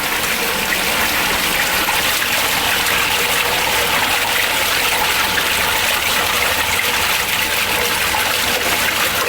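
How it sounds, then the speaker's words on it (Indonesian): Water gushes steadily and loudly out of a fish pond filter's static chamber as it is drained, a continuous broadband rush with no pause and no voices. "Ini kita akan kuras total hanya chamber statik."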